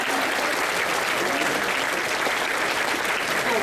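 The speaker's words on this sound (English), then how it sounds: "Let's give a round of applause to all of them and to the other three." An audience at a 2013 pitch contest applauds after a scholarship winner is named, dense steady clapping filling the hall without a break.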